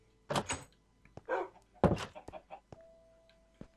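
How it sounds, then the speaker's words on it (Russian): A wooden door in Minecraft thunks open and shut with a few short hollow knocks, close and clear, amid other brief game clicks and sounds. "Вот моя тайная дверь."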